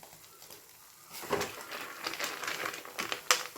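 Semiya kesari with cashews, raisins and almonds being stirred in a pan, giving soft crinkly scraping and light sizzling patter that builds after a quiet start, with a sharper scrape near the end.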